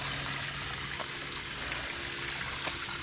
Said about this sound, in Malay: Sini ada water point. Boleh lah dekat nak ambil air, nak basuh muka ke apa kan